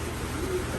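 Pigeons in a breeding loft give a soft, low coo, heard faintly against a steady background murmur within less than a second.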